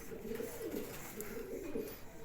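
Pigeons coo repeatedly in a loft they share with finches, a steady run of soft, rolling calls close by with faint high chirps above and no talking.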